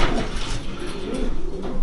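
Several pigeons coo in low, rolling murmurs, close by, over a busy, noisy background.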